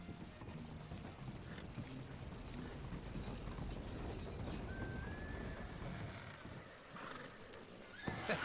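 A horse in Red Dead Redemption 2 gives a single clear whinny midway through, over steady game ambience with mechanical clicking and hoof sounds.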